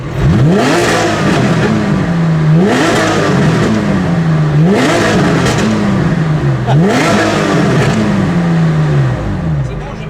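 A Porsche rally car engine fitted with a pop-and-bang exhaust revs hard in repeated rising sweeps, with crackles and bangs between them, loud and close. Excited voices come in now and then.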